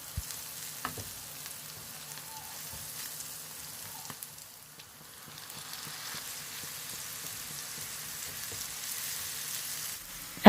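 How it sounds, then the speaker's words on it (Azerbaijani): Onions and meat fry together in a pan for Azerbaijani plov, giving a steady, moderate sizzle with occasional stirring scrapes and no talking. "Soğan biraz qovrulduqdan sonra üzərinə əti də əlavə edib birlikdə 5 dəqiqə də"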